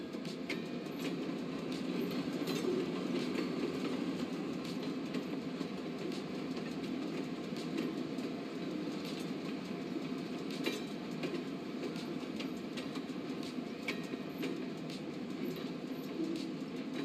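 Train running in Cities Skylines 2, a steady rolling rumble with faint clickety-clack of railcars, continuous and even throughout with no talk.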